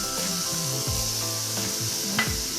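Beetroot dropped into hot sunflower oil for beetroot chapati sizzles with a steady bright hiss and scattered rubbing crackles, close by, with tuneful background music running throughout.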